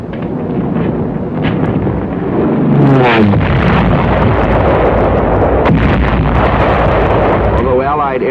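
Allied aerial bombardment during the Battle of the Bulge in World War II, heavy rumbling explosions and roaring blasts under a narrator's voice, loud and continuous.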